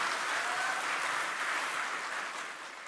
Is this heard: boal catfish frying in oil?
no